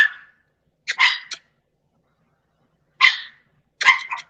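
A pet dog barks sharply nearby in two pairs of quick barks with a clear pause between each burst, and nothing else is heard.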